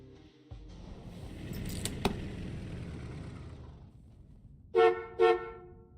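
A car horn in the video game Crime Scene Cleaner gives two short honks near the end, heard over a low engine rumble and background ambience.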